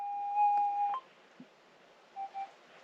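A Minelab GPX 6000 metal detector gives a quiet retune signal: one steady electronic tone lasting under a second, then two short beeps close together, with a small click between them.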